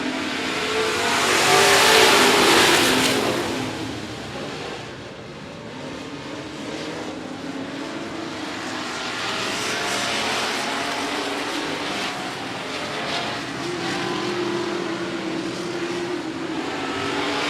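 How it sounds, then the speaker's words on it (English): Street stock race cars roar around a short oval speedway, a loud pack of engines swelling as they pass close early on, then a steady, sustained drone of revving motors continuing throughout. "As we go in street stock racing, here we go."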